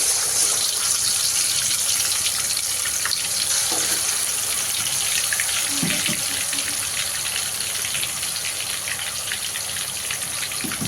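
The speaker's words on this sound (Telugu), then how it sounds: "ఇట్లా మంచిగా ఎర్రగా వచ్చేదాకా ఫ్రై చేసుకోవాలి ఆయిల్లో" Coated chicken pieces frying in hot oil for home-style crispy chicken give a steady, loud, close sizzle with a dense hiss and scattered crackles that run unbroken through the whole stretch, with no talking.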